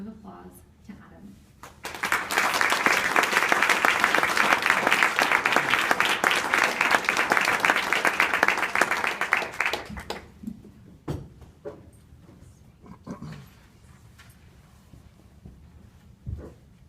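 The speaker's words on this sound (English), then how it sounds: "please give a warm round of applause to Adam" An audience at an association's annual general meeting breaks into warm applause, loud sustained clapping for about eight seconds that then stops abruptly, followed by quieter room sounds and a voice speaking.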